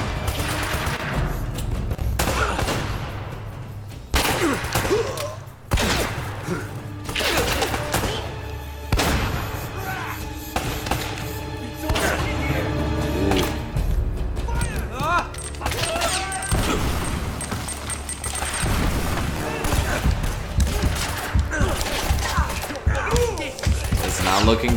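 Gunfire in the Uncharted video game comes as dense, repeated bursts and booms mixed with game music and effects, with people talking over it throughout.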